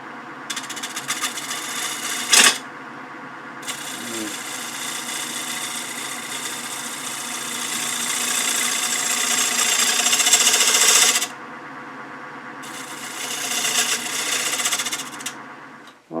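Wood lathe turning a winged bowl and refining its rim, a sustained motor whine and buzzing hum with bursts of brighter hiss as the tool cuts, one sharp knock near the start and the sound cutting off at the end.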